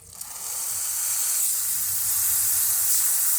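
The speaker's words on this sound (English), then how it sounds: "now we're just gonna test the steam one real quick" A Pasquini Livia 90 espresso machine's steam wand, just after a full tune-up, opens with a small click and then hisses loudly and steadily at close range.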